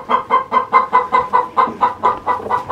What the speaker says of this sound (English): Chickens being chickens.